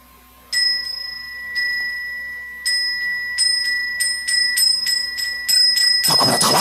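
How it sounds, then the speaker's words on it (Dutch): An old forgotten bell ringing on its own, bright metallic dings struck one by one, then in a quickening run of strikes close by, ending in a louder jangling clatter. "Een vergeten bel? Nog voor bodes bedoeld? Begon op spontane wijze te rinkelen?"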